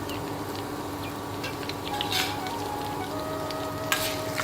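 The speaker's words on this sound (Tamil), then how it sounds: "கொஞ்சம் அது பொரிஞ்சு வரட்டும்." Dried red chillies and green chillies frying in oil in a pan for a greens chutney, a steady close sizzle with faint crackles and a few small clinks throughout.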